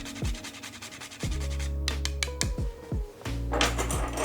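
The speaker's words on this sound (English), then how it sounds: "I like actually buying the actual nut of nutmeg and using a microplane." A whole nutmeg is grated on a microplane in a kitchen, giving a series of close, dry rasping scrapes, several quick strokes in an uneven rhythm with brief pauses between them.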